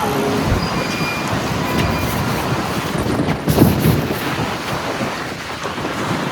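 Loud, constant cold wind buffeting the microphone at Portobello beach, Edinburgh, with a broad roar like surf in the background and a gust swelling midway.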